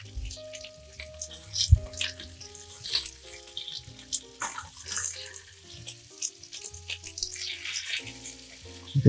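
Salmon fish cakes frying in a pan, a steady sizzle with crackling bursts and some watery hiss heard close up throughout, no talking.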